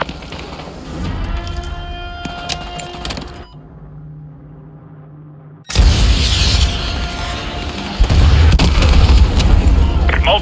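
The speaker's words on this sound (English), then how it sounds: "AGM missile is online." Heavy AGM missile strikes in Call of Duty: Modern Warfare 2 Remastered: loud booming explosions with rumbling gunfire, a brief quieter lull, then a powerful blast and sustained roaring detonations.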